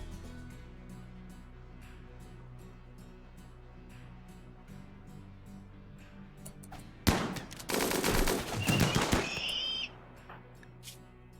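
Gunfire in the video game RimWorld: a dense, loud burst of rapid automatic shots erupts partway through and rattles for a few seconds over a steady low game backdrop, then cuts off.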